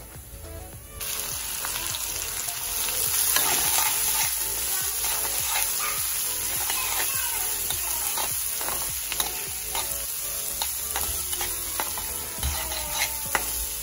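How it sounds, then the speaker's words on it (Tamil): Mustard seeds, cumin, urad dal, chana dal, cabbage, green chillies and onion sautéing in oil, a loud steady sizzle broken by frequent spatula scrapes and knocks against the pan, with no talking. "இப்போ அதில் வந்து கடுகு சீரகம் உளுந்து கடலைப்பருப்பு எல்லாத்தையும் சேர்த்து வதக்கிடலாம்"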